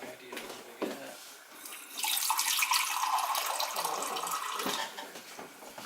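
A cup and a half of water pours from a tap into a pot of homemade chili, a steady broad splashing rush that starts about two seconds in and runs to the end, close and fairly loud, with faint kitchen clatter before it.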